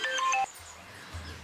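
Outgoing phone call ringback: a short electronic ring tone for about half a second, then low rumbling background, with no one speaking.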